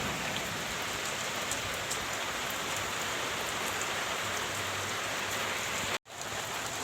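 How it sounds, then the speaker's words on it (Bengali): Steady rain pours down in a Bengal village, a dense even hiss of drops on surfaces filling the whole scene with no voices, broken by a brief dropout near the end. "ওই দেখো ওখানে বৃষ্টি হচ্ছে"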